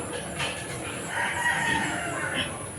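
A rooster crows at a poultry farm where fighting cocks are bred, with a drawn-out call over a busy background of other fowl and farmyard noise.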